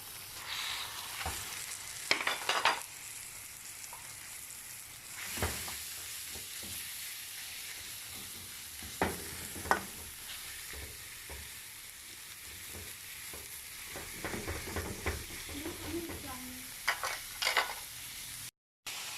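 Pork stir-frying in curry paste in a pan makes a continuous sizzle, broken by repeated scraping and stirring clatters of the utensil against the pan, all fairly close with no talking.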